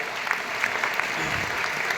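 Audience applause at a mentorship talk, a steady wash of clapping from a seated crowd that holds at an even level for the full two seconds, with no voices rising above it.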